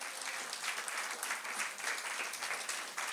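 A church congregation applauds during a Pentecost worship service, a dense, steady patter of many hands clapping at moderate distance for a few seconds, with faint voices mixed in.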